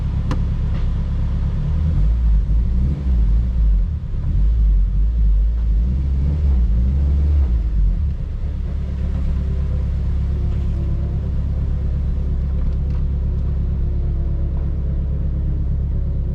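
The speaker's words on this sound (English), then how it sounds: "We're gonna take a little drive." A car fitted with a newly installed intake drives steadily with a deep continuous engine rumble, loud and close, shifting slightly early on before settling into an even drone.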